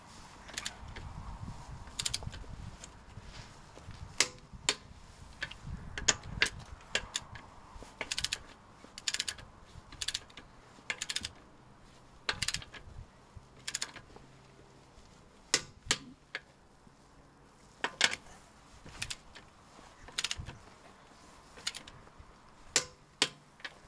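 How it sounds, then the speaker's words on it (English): Sharp mechanical clicks from a torque wrench tightening lug nuts on a BMW 5 Series F10/F11, irregular and repeated many times over a low background rumble, fairly close with no talking. "once you get this click sound you know that you're at the correct torque"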